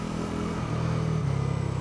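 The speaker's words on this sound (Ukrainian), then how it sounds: "я сподіваюся, ви чуєте по роботі двигуна" A Bajaj Pulsar NS400 motorcycle pulls away close by, its engine revving as it accelerates in a rising, throbbing note with a rhythmic pulse and no voice over it.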